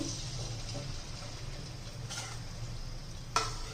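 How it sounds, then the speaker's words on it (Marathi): Small pieces of kachori dough dropped into a pan of heating oil give a soft, steady sizzle and bubbling, with a brief, sharper hiss near the end. "हे पा तेल तापले का बघूया थोडंसं पीठ सोडून"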